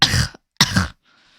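A voice twice imitates throat clearing to mimic the German guttural "ch" sound. Each is a short, harsh, raspy burst, close and loud, followed by a faint breathy trail.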